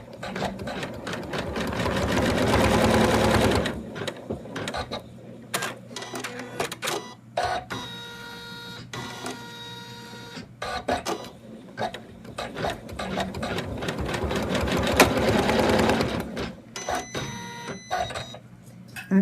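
An embroidery machine stitches an in-the-hoop Santa doll, securing fur fabric: a loud, close mechanical needle chatter in fast, steady bursts, broken by short pauses and clicks between runs.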